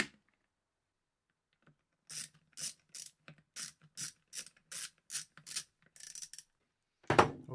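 Rapid, evenly spaced ratchet clicks as a lock nut is tightened on a Shad motorcycle pannier lock, about a dozen crisp close-up clicks after a quiet start, then a louder rattle at the end.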